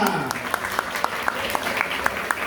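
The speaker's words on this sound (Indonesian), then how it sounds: "Oke, tepuk tangan semuanya." Light clapping from a school quiz competition audience, a thin patter with a few sharper individual claps standing out at regular intervals, moderately faint over room noise.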